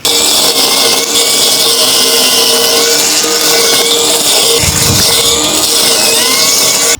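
A 2800W cordless grass trimmer runs continuously at a loud, steady whine, its motor pitch wavering slightly and dipping briefly near the end, with no talking.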